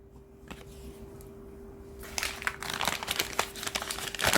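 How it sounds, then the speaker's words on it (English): A small paper gift bag from a shaving-soap and aftershave unboxing crinkles and rustles close by, quiet at first and then growing busier and louder with dense crackling handling noise. "Nice little paper bag."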